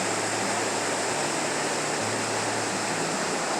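Waterfall at Moores Cove Falls in Pisgah National Forest, flowing hard; a steady, loud, broadband rush of falling water close by, unbroken for the whole stretch with no voices.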